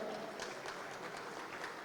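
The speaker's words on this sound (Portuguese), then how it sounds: "uma salva de palmas também." Steady applause from a crowd, a dense patter of claps sustained throughout at moderate, somewhat distant level.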